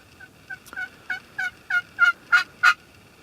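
Wild turkey hens in a wheat field give a run of about nine short calls, starting faint and growing steadily louder and closer in an even rhythm, with no talking over them.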